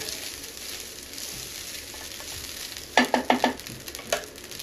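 Egg fried rice made with leftover rice is stirred in a pan, a low background sizzle broken by several sharp scraping clatters of the spatula clustered near the end.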